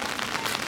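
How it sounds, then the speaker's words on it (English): Steady rain falls in South Korea as a dense, close hiss of drops spattering on surfaces, with no pauses through the short stretch. "When it's raining."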